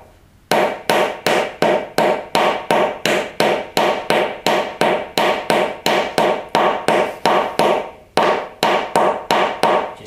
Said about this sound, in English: Once you've whacked in the hinge supports